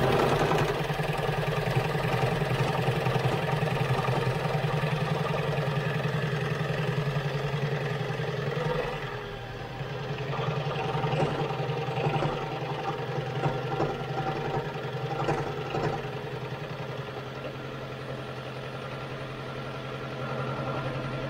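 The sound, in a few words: Toyota Prius engine running rough from a blown head gasket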